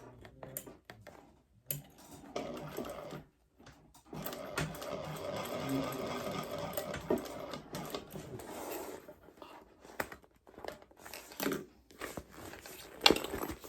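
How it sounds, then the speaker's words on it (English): Sewing machine stitching seams open on a bag, running in several bursts of rapid mechanical whirring with short pauses between runs, close and steady, no talking. "Just sew them open."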